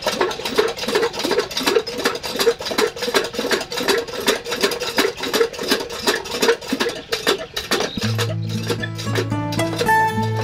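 A water pump engine runs for irrigating an okra field on a farm, chugging in a fast regular rhythm close by, then shifting near the end as a steady tonal hum takes over.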